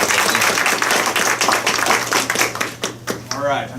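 Loud clapping from an audience at a Black History program, applauding singers, fills the room before tapering into scattered claps as a voice starts speaking.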